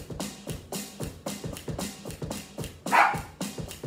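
A dog barks in a steady series of short, rhythmic yelps against a grooving beat, with one louder bark standing out near the end.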